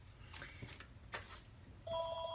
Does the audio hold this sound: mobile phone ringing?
yes